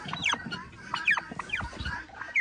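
Hens and a turkey hen crowded together in a nest box cluck and croak in short, irregular bursts, fairly close and steady throughout, with no talking.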